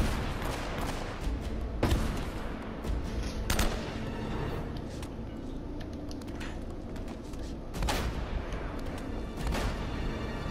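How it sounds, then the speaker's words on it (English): Enemy gunfire in Uncharted: Drake's Fortune, a few sharp, loud shots at irregular intervals over a constant rumbling background, with no talk. "Where is he shooting from?"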